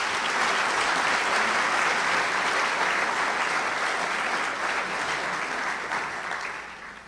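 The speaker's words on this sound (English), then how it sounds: "help me give them a round of applause and a thank you" A room of families at a breakfast with the dean applauds the on-call staff team, steady even clapping that holds for several seconds then gradually thins and fades toward the end.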